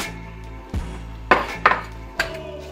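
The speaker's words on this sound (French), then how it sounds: "et c'est parti, on mélange." Chicken kebab marinade with spices, vinegar, olive oil and onions being mixed by hand in a bowl, heard as a few close, sharp knocks and clinks over a low steady hum, with no talking.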